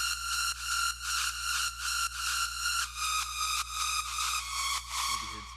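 A harsh, bright Tone2 Gladiator synth lead plays alone, with its chord top notes raised an octave, pulsing through a steady rhythmic run of sustained buzzy notes at close, even loudness.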